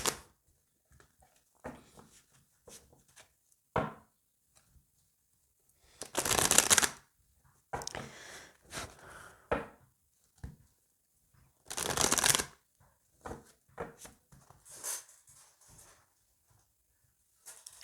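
Oracle cards from a meteor-themed deck being shuffled, soft riffling and swishing bursts with brief taps between, two longer louder shuffles standing out, close and alone without talk.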